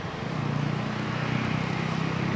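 Royal Air Maroc airliner in new livery passing at London Heathrow Airport, a steady loud engine roar with low droning hum, continuous throughout and unbroken by talk.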